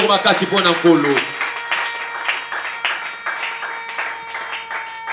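A church congregation applauds in praise after a voice briefly speaks, leaving a soft, continuous spread of clapping over sustained keyboard tones.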